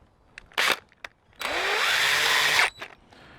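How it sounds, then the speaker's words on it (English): A cordless drill with a 4mm bit bores pilot holes into timber supporting pieces of a stackable crate: a short burst, then a longer steady whine of about a second and a half, loud and close, with no talk. "I'm going to pilot drill some holes through into the supporting pieces, members there"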